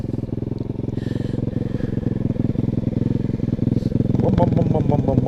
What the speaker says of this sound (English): Look at it, it idles.